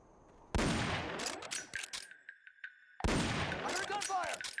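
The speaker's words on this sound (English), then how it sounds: "I heard gunfire!" Bursts of automatic gunfire in the stealth video game Metal Gear Solid: Peace Walker, two loud dense volleys separated by a short quiet gap with a sustained tone, game sounds and effects layered throughout.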